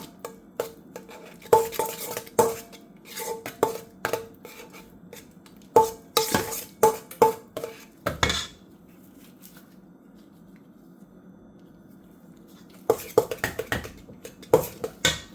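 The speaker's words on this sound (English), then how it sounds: "With my spoon, cream it." Spoon scraping and clinking in a bowl while a margarine-like mixture is creamed for coffee cake, in rhythmic bursts of stirring with short pauses, close and fairly loud, with no talking.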